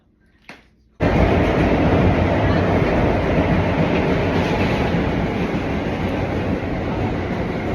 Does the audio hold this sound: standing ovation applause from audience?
no